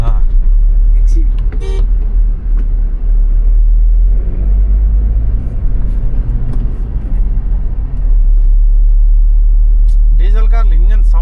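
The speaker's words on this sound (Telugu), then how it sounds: "డీజిల్ కార్లు ఇంజన్ సౌండే సౌండ్" A Toyota Fortuner diesel engine drones with a heavy, constant low rumble from inside the cabin, steady and loud throughout, while people talk over it and a short horn-like toot sounds near the end.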